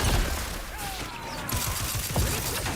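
Sustained automatic gunfire in The Outer Worlds 2, a run of rapid repeated shots from a held trigger over a dense, noisy game soundscape.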